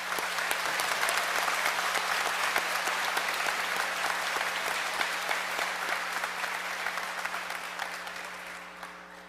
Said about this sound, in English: I think the students deserve a round of applause for their accomplishments while at the Academy.